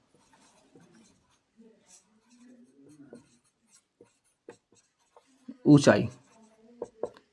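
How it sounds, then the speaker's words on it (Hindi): Handwriting during a class 10 maths lesson on surface area and volume: faint, sparse scratching strokes under a teacher's loud, close speech. "तो लिखेंगे यहाँ पर"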